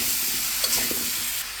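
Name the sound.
stirring ash gourd with salt in frying pan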